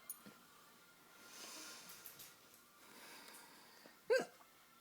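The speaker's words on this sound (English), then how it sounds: "I'm wondering how long I can hiccup on camera before it gets annoying to others" An adult's hiccup, one sharp sudden burst near the end after quiet breathing and small soft noises, close and fairly loud against a hushed indoor room.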